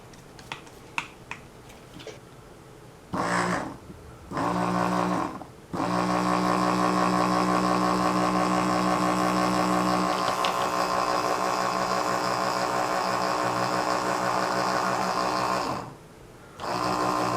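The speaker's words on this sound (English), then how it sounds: "Let's put the pump head back on it" A reassembled Mark IV ABS pump from a 1994 Saab 9000 runs in short bursts and then a long steady stretch, a close, loud mechanical whir-buzz that stops, with clicks and handling noises before it starts.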